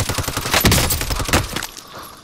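Rapid bursts of gunfire in an online team shooter, loud and close, a dense crackling volley that cuts off abruptly and leaves quieter game ambience.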